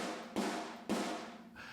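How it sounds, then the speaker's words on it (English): Two snare drum hits, each with a bright crack and a wide, roomy tail from a far room sample in the GGD Modern Massive library, sounding alone and fairly loud. "the far room sounds like this"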